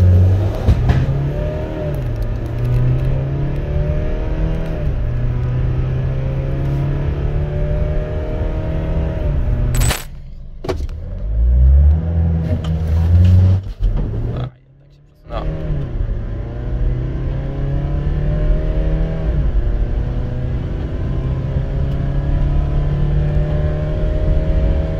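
A Mercedes-Benz Vito 119 CDI 4x4 diesel van, rated 197 hp and 440 Nm, runs with a steady engine drone that rises and swells as it accelerates, with a brief dip midway. Someone talks over the engine almost throughout.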